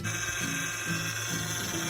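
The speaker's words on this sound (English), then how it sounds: "if your car making a sound like this" A continuous mechanical whine from a car's power steering, with a low groaning tone that rises and falls in a repeating cycle, loud and steady, no voices.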